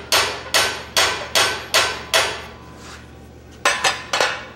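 Hand-hammer blows on hot metal at a blacksmithing conference while the smith upsets stock using a monkey tool. Five loud, ringing strikes fall at a steady pace, then a short pause, then three quicker, lighter taps, all close and metallic.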